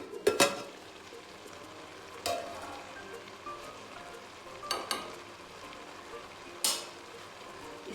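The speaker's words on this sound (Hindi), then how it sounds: "اس میں آٹا ہم شامل کر دیں گے، اس طرح ہلاتے رہیں گے اور شامل کرتے رہیں گے۔" A flour mixture stirred into saag in a pan makes a soft bubbling sizzle punctuated by four or five sharp spoon scrapes against the metal, quiet and close, without speech.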